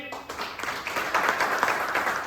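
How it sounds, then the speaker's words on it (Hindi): At a community conference, an audience applauds a speaker with a swelling round of clapping from many people, rising after a quiet start and continuing steadily. "जोड़ा तालियां इनके लिए"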